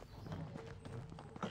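In the video game Medieval Dynasty, a horse's hooves clip-clop softly and irregularly over a noisy ambient background, faint and close.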